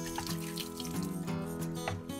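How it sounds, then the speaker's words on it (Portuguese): Clean water running and pouring while plastic PET bottles are washed, a steady close splashing stream like a tap filling a sink, continuous and alone. "Água pura, água limpa."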